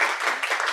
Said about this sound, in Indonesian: Tepuk tangan dong buat KBI.